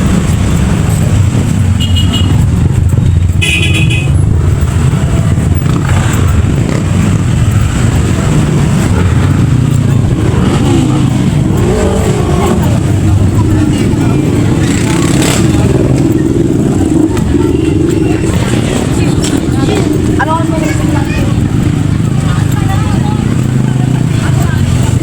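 Heavy, congested road traffic with cars and motorcycles fills the scene, a steady loud engine rumble broken by a couple of short horn toots early on, while people talk nearby throughout.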